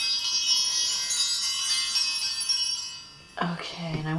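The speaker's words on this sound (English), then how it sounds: "I want to ring the bells" Bells are rung to open a tarot reading, sending bright ringing tones that shimmer and slowly fade before a person begins talking.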